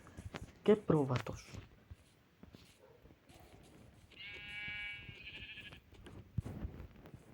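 A sheep in the Minecraft survival game gives a short run of bleats in the middle, heard clearly amid a voice talking before and after.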